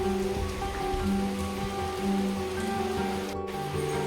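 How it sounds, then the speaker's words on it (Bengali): Light rain falls outside a balcony that water has already reached, a continuous close patter on surfaces with a low steady hum beneath it and no speech. "দেখো আবার ছোট বৃষ্টি আরম্ভ হয়ে গেছে"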